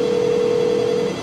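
A single electronic telephone ring tone from a DMS-100 telephone exchange sounds for about a second, steady and clear, close by.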